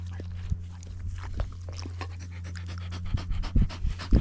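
A wet lap dog that has just come out of the water pants steadily and close by, with a few sharp shaking and pattering sounds scattered through the panting.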